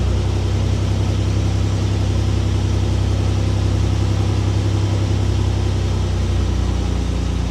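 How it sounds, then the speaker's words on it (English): A tow truck sling wrecker backs up toward a Toyota waiting to be towed, its engine a steady, loud low-pitched idle rumble that stays constant throughout with no voices. "Now I'm going to back up the wrecker to the vehicle that needs to be towed."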